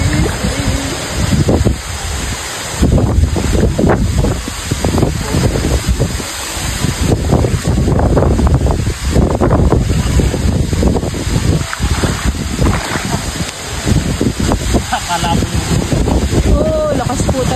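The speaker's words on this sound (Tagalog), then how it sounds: "Malakas pa rin po ngayon ang hangin." Strong wind buffets the microphone at a fishpond, a continuous loud roaring rumble with gusting surges, while people talk intermittently over it.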